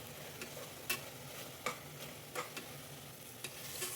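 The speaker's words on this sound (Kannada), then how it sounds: "ಇದನ್ನು ಚೆನ್ನಾಗಿ ಫ್ರೈ ಮಾಡ್ಕೋಬೇಕು ಎಲ್ಲೂ ಸೀಬಾರ್ದು" Coriander powder and chilli powder fry quietly in a pan with a faint steady sizzle, broken by a few sharp scrapes and clicks of a spoon stirring the spices.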